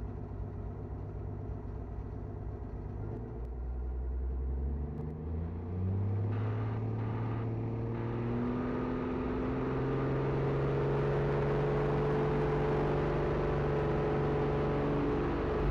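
A light aircraft with a UL Power engine runs through its takeoff roll, the engine note rising from a low drone into a loud, steady roar that climbs in pitch as power comes up.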